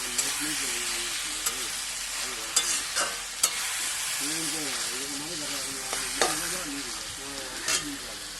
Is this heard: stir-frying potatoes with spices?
yes